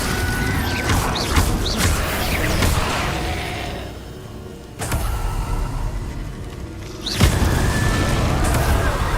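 The Confringo blast spell in Hogwarts Legacy hits as sudden loud booming bursts over dense game noise, with a lull before a final crashing impact.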